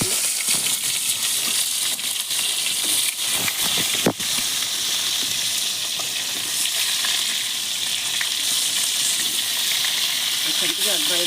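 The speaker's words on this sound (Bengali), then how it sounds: "এখান থেকে একবারে ভেজে ভালো করে ভেজে নেবো" Potato, cauliflower, bay leaf and whole cumin sizzle loudly in hot oil for a cauliflower fish curry, a continuous close hiss with occasional faint voices underneath.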